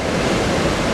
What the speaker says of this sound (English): You can see these big waves, they really churn